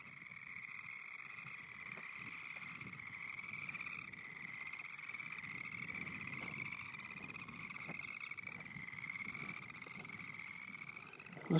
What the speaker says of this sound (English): Must be frogs or something.